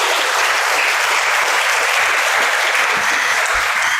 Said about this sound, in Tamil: கரங்களை தட்டி